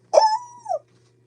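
A person imitates a coyote howl, a single short yip rising into a held, wavering tone that drops at the end, loud and close in an otherwise quiet room.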